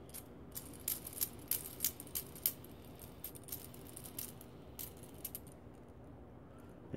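An aluminum and brass four-gear fidget spinner turning freely, giving faint, irregular metallic clicks and light rattling that thin out toward the end, close and quiet.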